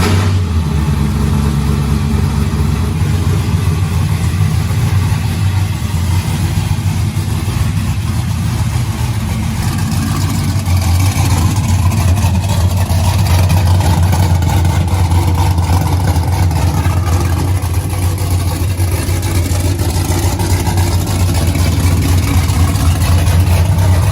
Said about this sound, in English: fire me up, boys. We're going to put this thing on the dyno